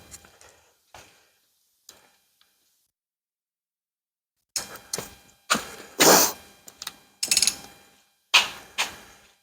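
Someone roams a 2,000-square-foot workshop hunting for pliers, making scattered footsteps, clanks and rummaging knocks, sparse and faint at first, then a burst of louder, closer metallic clatter and handling noises.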